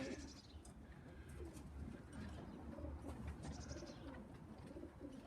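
Pigeon hens in a loft on a freezing, clear day, cooing and stirring steadily throughout against a constant low rumble of background noise.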